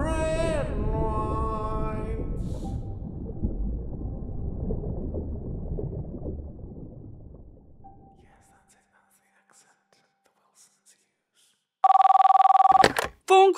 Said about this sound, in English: Phone call for you, Mike.